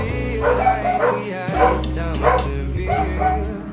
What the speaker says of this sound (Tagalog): pasensya na sa mga aso. May nakita sigurong tao. Kaya, ayun, maingay na naman sila.